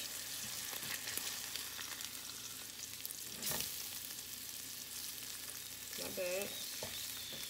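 A flipped fish fries in a pan at home, giving a soft, even sizzle with a couple of brief clatters as it settles. One short spoken remark comes partway through, and a faint tonal sound appears near the end.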